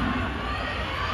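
Fans at a BINI fan meet shouting together at Araneta, a dense, steady wash of crowd screams filling the space at even loudness throughout.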